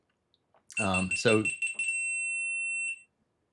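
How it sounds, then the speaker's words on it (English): A GoPro camera with a dead battery powers off, giving a sustained high-pitched electronic beep that starts under a brief spoken word and carries on alone for about a second before stopping. "That was the GoPro powering off, which has run out of battery apparently"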